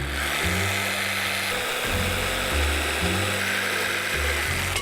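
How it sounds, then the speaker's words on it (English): A jigsaw cuts a pine bar, its motor running steadily and loudly throughout with a shifting low tone as the blade works through the wood. "Mark it out and then cut it with the jigsaw."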